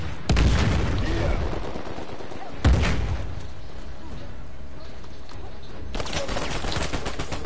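Gunfire in an Uncharted 4 multiplayer match: loud bursts of shots around the start, near the three-second mark and again near six seconds, with voices talking over and between the rounds.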